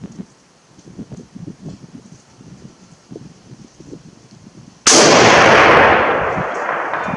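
A Mosin Nagant M91/30 PEM sniper rifle fires once outdoors at a range, a sudden very loud blast that rolls off into a long fading echo after quiet rustling and wind.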